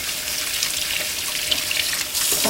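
Tap water runs steadily over freshly cut tilapia fish being washed in a sink, a continuous close hiss and splash with small splashy variations and no talking.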